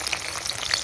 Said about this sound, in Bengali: পেঁয়াজ দিয়ে দিচ্ছি তেলে